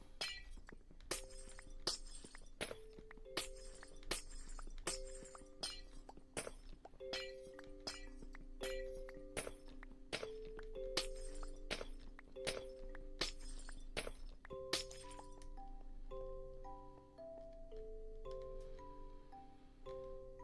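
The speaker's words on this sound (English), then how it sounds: "I apologize for the constant glass breaking noises." Repeated glass blocks shattering in Minecraft, a sharp crisp break roughly every second for about fifteen seconds over a plinking in-game melody, then the breaks stop while the music carries on.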